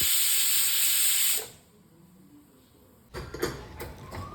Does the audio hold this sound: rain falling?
no